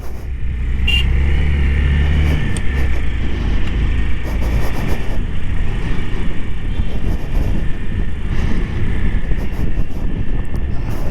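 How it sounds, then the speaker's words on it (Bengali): A motorbike coasts downhill with its engine in neutral on a mountain road through pine forest between Dalhousie and Killar. A loud, steady rushing roar runs unbroken throughout, with no talking. "আমি আমার বাইকের ইঞ্জিন এখন নিউট্রাল করে রেখেছি। বাইক একাই নামছে"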